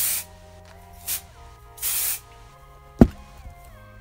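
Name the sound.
hairspray being sprayed upward onto hair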